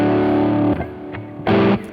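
Electric guitar through tube distortion plays a roadhouse blues rock riff with hard-attacked strings, giving a loud sustained chord, a brief choppy break, then another short crunchy stab.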